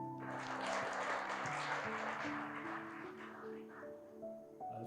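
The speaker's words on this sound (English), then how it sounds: "please join me in welcoming our esteemed panelists with a round of applause" A symposium audience on conflict resolution applauds to welcome panelists, with steady clapping at moderate distance under sustained low tones and faint murmurs.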